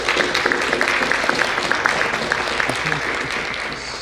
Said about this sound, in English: And give him a round of applause.